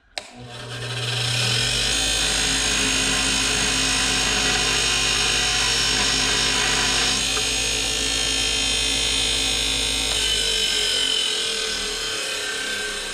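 A power sander whirs steadily and loudly against rusty metal, spinning up at the start and holding a continuous grinding drone that eases off slightly near the end.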